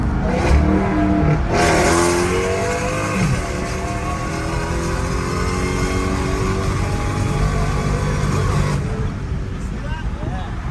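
A Dodge Charger Hellcat running without catalytic converters revs loudly and continuously up close, a raw roaring engine note rising and holding, with a voice speaking over it.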